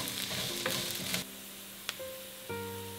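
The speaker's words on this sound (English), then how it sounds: "I'm going to fry up the bitter melon." Bitter melon pieces frying in a pan, a close sizzle with stirring clatter and a sharp utensil knock, the hiss easing after a moment.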